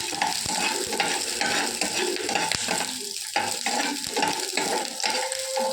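Around ten small onions (shallots) sauté in hot oil in a home kitchen, a loud, continuous sizzle layered with busy stirring scrapes and occasional clinks of a spoon against the pan, close up with no talking.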